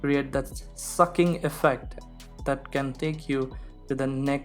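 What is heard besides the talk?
No distinct noise like a dog, phone or traffic.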